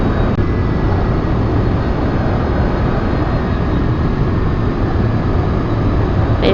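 A fighter jet in the X-Plane 11 flight simulator game roars with a steady, unbroken engine rush that stays loud and even throughout, with no talk.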